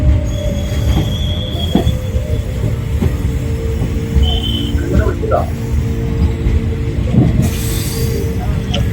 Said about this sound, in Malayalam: വണ്ടി എത്തിച്ചേർന്നിരിക്കുകയാണ് തിക്കോടി റെയിൽവേ സ്റ്റേഷൻ